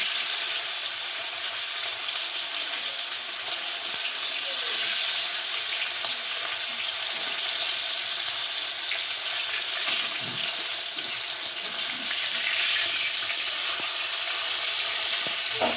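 Katla fish fry in hot oil in a pan for Bengali doi katla, giving a steady close sizzle with scattered crackles and pops, unbroken by talk.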